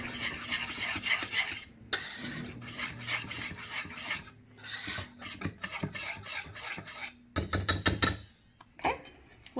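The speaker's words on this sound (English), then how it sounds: "I'm going to use a whisk" Whisk scraping and stirring Funfetti cookie ingredients in a mixing bowl, steady close rhythmic rasping strokes with brief pauses, louder clinks near the end.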